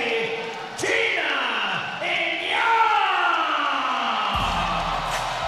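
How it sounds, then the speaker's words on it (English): A crowd at a PXC Pacific Xtreme Combat 41 fight event cheers and roars as a female fighter enters. A steady, loud wash of cheering and whoops runs throughout under an announcer's voice. "She comes out with thunderous applause."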